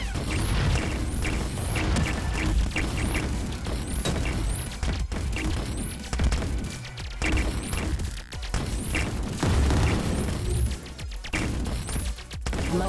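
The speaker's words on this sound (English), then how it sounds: "There's a lot of explosions." Dense, continuous barrage of loud crashing explosions and mechanical clatter from the Resogun video game. Sharp booms burst repeatedly throughout without pause.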